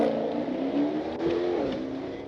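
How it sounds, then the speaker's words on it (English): A Chrysler 300 SRT's engine roars loud and close as it accelerates hard, the revving tone climbing steadily with no voices. "Greaves hit the gas"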